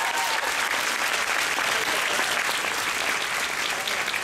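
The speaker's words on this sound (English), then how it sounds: "let's get a round of applause for Sarah Paulson" A large crowd applauds at a FanExpo convention panel, producing dense, sustained applause that stays steady and full throughout.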